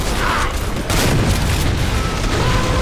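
Dense, loud booming gunfire and explosion from a video game, a continuous roar of blasts filling the whole moment.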